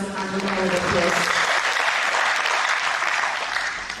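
Audience applause for the Deputy Commandant at a combined padre hour gathering, a dense sustained clapping wash lasting the full span, with a voice briefly overlapping at the start.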